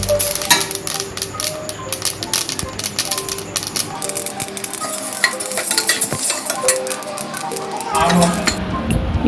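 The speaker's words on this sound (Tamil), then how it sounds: "இப்போ எள்ளு தெறிக்க ஆரம்பிக்குது பாருங்க" Sesame seeds dry-roasting with urad dal in a pan for idli podi give off sharp spluttering pops and crackles, mixed with frequent stirring scrapes and metallic clinks, close and fairly loud throughout.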